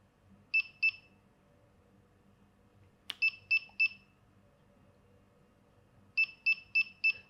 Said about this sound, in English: turn the alarm back on, and I wait for 4 beeps